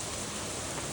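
Steady rain falls outdoors, a dense, even hiss that fills the whole moment at constant loudness, with no voices or breaks.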